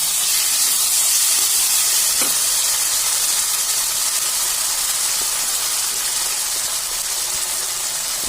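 Ground cumin and green chilli paste hits a hot pan for a rohu fish curry, giving a loud, steady, broadband sizzling hiss that holds evenly throughout with no voices.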